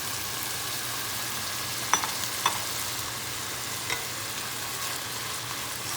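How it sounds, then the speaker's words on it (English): Beef and chopped celery sauté in a pan, giving a steady soft sizzle with a few light clicks of stirring, close and alone with no voices. "Stir and saute until the celery gets tender."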